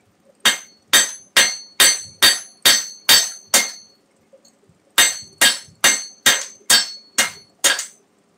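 Hammer blows forge a bevel on a steel church-key bottle opener, ringing metallic strikes in two steady runs of about seven each, separated by a short pause, loud and close with no talk.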